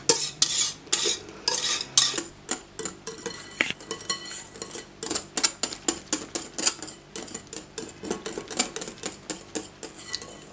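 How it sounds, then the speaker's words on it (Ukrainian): Whipped cream is folded into a chocolate mousse mixture with brisk, rhythmic stirring, a close run of wet clicks and scrapes against the bowl repeating quickly throughout, without any talking. "Тепер з'єднуємо вершки з нашою шоколадною масою. І гарно перемішуємо."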